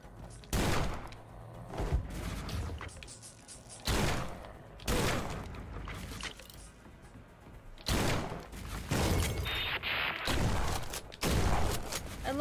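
Enemy gunfire in the shooter game Forgive Me Father 2 crackles in repeated sharp volleys, several distinct bursts of shots with short lulls between them.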